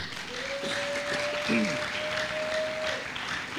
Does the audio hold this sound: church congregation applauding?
yes